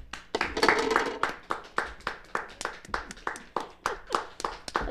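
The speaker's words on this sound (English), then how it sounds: "Let's have a little heartier round of applause here." Applause at a Toastmasters club meeting: a small group clapping in a fairly regular, rhythmic pattern, close and distinct, with individual claps clearly separated.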